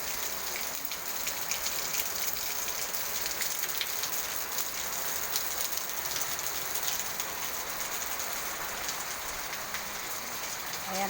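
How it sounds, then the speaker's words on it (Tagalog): Heavy rain pours off a house roof in a dense, steady patter of drips and splashes that holds evenly from start to end, close and continuous with no voices. "Galing sa bubong namin, oh. Grabe ang lakas ng tulo"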